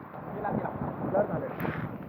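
Monsoon wind blows steadily on the Nanemachi trek in Konkan, a close, gusty rush buffeting the microphone without pause.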